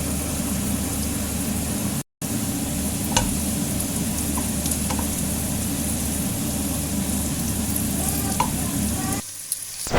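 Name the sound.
rice being stirred and toasted in a pan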